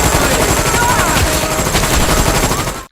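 Rifle fire in a film's massacre scene, a loud, dense, continuous burst of gunfire that fills the whole stretch and cuts off abruptly.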